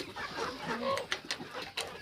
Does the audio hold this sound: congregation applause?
no